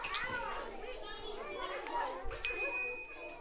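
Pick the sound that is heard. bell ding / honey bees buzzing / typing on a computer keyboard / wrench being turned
bell ding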